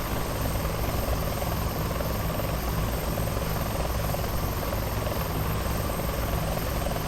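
A simulated Bell 412 helicopter in X-Plane 11 gives a constant, dense rotor and engine drone, steady and loud throughout, with no talking.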